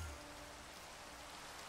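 Steady rainfall in the video game Minecraft hisses as an even, continuous wash of noise with no other sounds on top.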